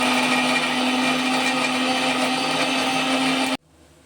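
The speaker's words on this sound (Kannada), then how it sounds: "ಕೊತ್ತಂಬರಿ ಸೊಪ್ಪು, ಪುದೀನ ಸೊಪ್ಪು ಹಾಗೂ ಕತ್ತರಿಸಿದ ಟೊಮೆಟೊ ಮಿಕ್ಸಿ ಜಾರಿನಲ್ಲಿ ಹಾಕಿ" An electric mixer grinder whirs loudly and steadily as it blends coriander leaves, mint leaves, chopped tomato, black pepper powder and chilli powder in its jar, then cuts off abruptly into near silence.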